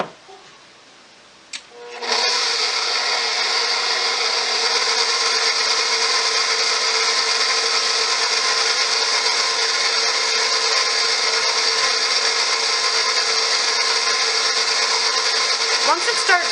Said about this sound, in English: I'm going to mix that on low here for a second.